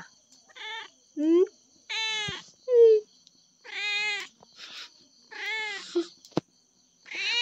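A cat meows loudly and repeatedly indoors, a series of insistent, drawn-out cries close to the listener, separated by short pauses and alone without talk.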